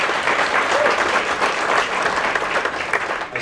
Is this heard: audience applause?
yes